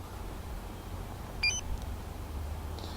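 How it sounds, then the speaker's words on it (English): A two-way remote starter key fob for a truck gives a short, faint electronic beep while its button is held, under a steady low background hum. "So it's beeping, tells me that it's getting ready to start."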